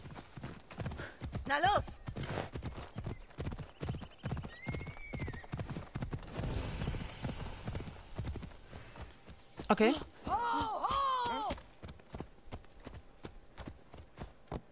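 Horse hooves clip-clop at a steady trot in Assassin's Creed Odyssey, with two loud, close neighs breaking in partway through while someone talks briefly over the game audio.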